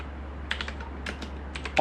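Quick keystrokes on a computer keyboard while working in Microsoft Word, a few light clicks in a short burst under a steady low hum, close and fairly faint.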